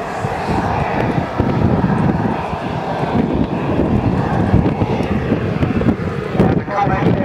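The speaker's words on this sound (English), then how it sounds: "the Comet airliner is the first jet airliner to operate in the world" A model Comet jet airliner flies at the Cosford air show, its engine a steady roar with microphone wind buffeting throughout. A commentator talks over it.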